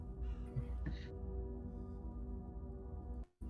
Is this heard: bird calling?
yes